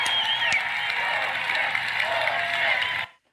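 Rally crowd at a political event cheering and applauding, a dense continuous roar of clapping and shouts at steady loudness, cutting off abruptly near the end.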